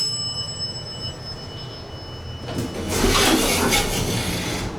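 Bell of an original 1985 Dover elevator, a bright ringing burst that starts partway through and lingers, preceded by quiet cab hum and a faint steady tone.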